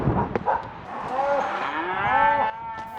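Cattle on a high country cattle drive lowing: several drawn-out moos with rising and falling pitch, one after another, fairly close, with a few short sharp calls in between.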